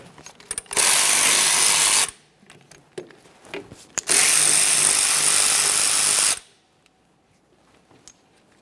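A 14mm ratchet or power tool loosens the caliper slider mounting bolts on a 2010-2013 Kia Forte Koup brake, in two loud, sustained whirring bursts with quiet clicks around them.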